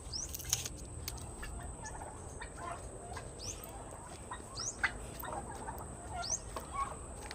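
A pet turkey gobbles several times in a backyard garden with chickens, short rapid gobbles at moderate distance over faint outdoor ambience and rustling.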